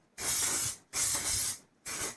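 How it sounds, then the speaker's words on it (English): Silicone mould release spray is aerosolled into a saucepan in three close, loud hissing bursts, the first two longer and the last shorter, separated by brief silences, with no voices. "now I'm going to spray some silicone release spray in there, mould release"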